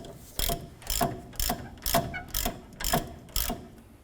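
Ratchet tightening the bolt on a 2008-2012 Honda Accord right rear strut assembly, seven evenly spaced clicking bursts about half a second apart, close and crisp with no talking.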